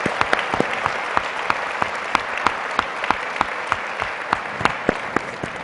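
An audience at an arts convention applauds warmly, with dense, sustained clapping near and loud, a few sharper individual claps standing out throughout.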